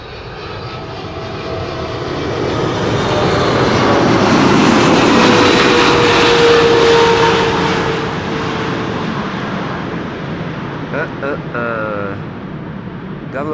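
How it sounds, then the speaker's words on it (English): A Boeing 777 freighter with GE90 jet engines arrives at an airport. The deep engine roar swells loud as the plane passes close overhead, then slowly fades into a distant rumble. "Gotta love the sounds of those GE90s."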